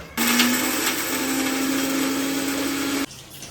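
A mixer grinder whirs steadily as it grinds a masala of garlic, coconut, red chili, coriander and cumin, starting abruptly, running loud and even for about three seconds, then cutting off.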